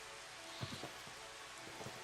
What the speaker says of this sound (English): finally it started raining. Just watching the rain hit the water is awesome